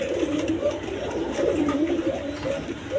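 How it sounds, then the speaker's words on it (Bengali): Lahori pigeons, a breeding pair kept for sale, give repeated low rolling coos near and continuous, with faint background voices murmuring underneath. "এখানে এক পেয়ার লাহোরি কবুতর আছে"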